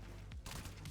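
Gunfire in the video game Warframe, a few quick shots popping in a short burst over a steady low game hum.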